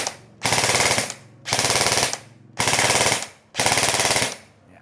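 An airsoft HK416 rifle, ENC 105 SEP model, fires four loud, sustained full-auto bursts of about a second each, separated by short pauses, with no talking.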